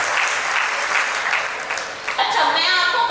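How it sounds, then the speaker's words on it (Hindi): An audience claps steadily at a Hindi comic poetry gathering, honouring a woman poet on stage; the applause is loud and continuous, and in the last second a voice starts speaking over the clapping. "तो ऐसी तालियां आपकी मेरे सम्मान में भी आ गई"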